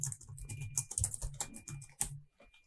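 Close, quiet clatter of typing on a computer keyboard, a quick irregular run of key taps with a brief pause near the end and no speech.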